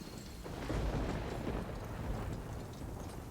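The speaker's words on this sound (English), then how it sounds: "Storms are brewing." Low, broad rumbling roll of thunder in a stormy open-world landscape in Horizon Forbidden West, a sustained deep boom swelling and then lingering steadily, with no voices.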